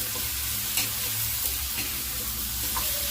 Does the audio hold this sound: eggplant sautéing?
yes